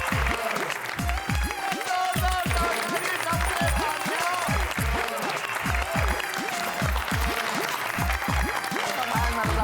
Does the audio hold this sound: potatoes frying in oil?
no